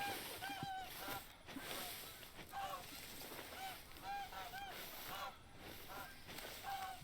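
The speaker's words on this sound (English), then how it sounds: "I'll have a gander at those geese. Yes, they are making quite the racket." A flock of geese honking repeatedly in the TheHunter: Call of the Wild hunting game, a steady noisy racket of overlapping calls with brief quieter gaps, close and loud throughout.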